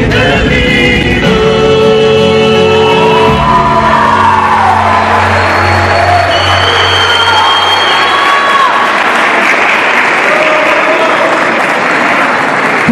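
An audience at a gaucho dance festival breaks into loud, sustained applause, cheering and whoops. Fading music is heard at the start, then dense clapping fills the space, with shouts rising above it throughout.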